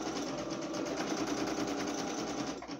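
A sewing machine runs steadily in a continuous close whir while backstitching with pink thread on a patchwork cotton dish towel, then slows slightly near the end.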